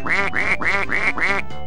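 Five loud cartoonish duck quacks come in a steady rhythm from the Dora V.Smile video game, each a bright buzzy honk, close and clear with nothing over them.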